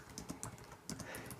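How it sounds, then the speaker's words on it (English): Fingers tap keys on a computer keyboard in irregular quick bursts, soft and close, during a Solidworks livestream, with no talking. "She's typing away."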